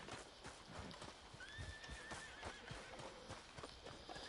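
Steady clip-clop of horse hooves in Red Dead Redemption 2, with the horse neighing partway through, fairly quiet and continuous, no talking.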